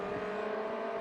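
An NSU TTS race car engine in a racing game at Anderstorp Raceway holds a steady high rev in second gear, droning loudly and evenly with a strong buzzing tone throughout.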